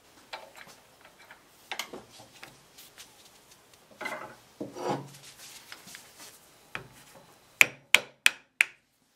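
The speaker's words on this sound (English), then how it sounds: "sometimes you have to use a vise and then just tap this plastic piece off" Faint scraping and rubbing in a small shop lead into a quick series of four sharp taps knocking plastic nubs off chair caster pins held in a vise.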